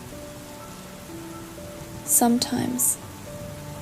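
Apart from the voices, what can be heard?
rain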